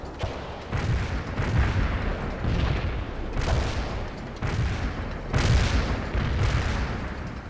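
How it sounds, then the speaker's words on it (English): Cluster bomb explosions in the World in Conflict video game, a series of heavy booming blasts rolling one after another, loud and sustained with rumbling bursts roughly every second over a dense battle roar. "Cluster bomb hit right on."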